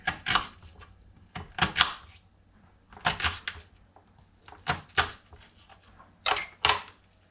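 Onion being chopped into small pieces on a board, sharp knife strikes coming in quick bursts of two or three with short pauses between, close and clear.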